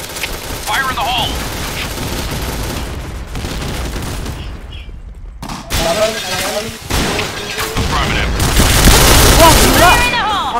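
Grenade blasts and gunfire in the shooter Point Blank: heavy booms and shattering bursts with sustained firing, briefly dropping away near the middle before a loud burst closes the clip, with players talking over the action.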